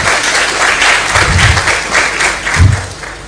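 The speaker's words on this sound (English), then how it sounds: "Ladies and gentlemen, let us give them another round of applause." Audience at an ambassadors conference bursts into loud, sustained applause, dense clapping with a few low thumps, filling the space without speech.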